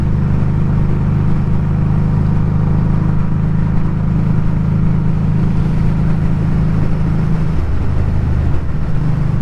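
A Honda Street 500 motorcycle cruises steadily in sixth gear around 2,900 RPM, its loud, even engine drone and wind rush continuous and unchanging throughout.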